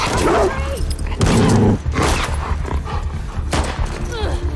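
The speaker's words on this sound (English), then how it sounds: "The WLF, they have trained dogs that will sniff and attack you." Trained dogs barking and yipping in a post-apocalyptic action video game, sharp repeated barks over a busy backdrop of game noise and distant gunfire.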